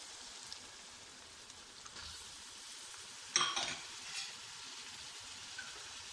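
Tomatoes tipped into a pot of cooking chicken, potatoes and carrots bring a quiet, steady sizzle, then a sharp burst of frying and stirring midway before it settles back to a soft crackle.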